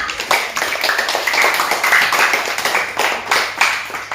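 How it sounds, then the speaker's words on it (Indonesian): A school class claps together in unison, dense lively hand clapping filling the whole stretch with slight rhythmic surges, close and fairly loud. "Tepuk tangan untuk kita semua."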